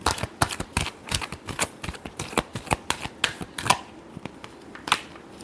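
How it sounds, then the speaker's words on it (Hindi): Tarot cards are shuffled in a quick run of crisp riffling slaps and flicks, close and fairly soft, with irregular bursts that thin out toward the end. "Last shuffle."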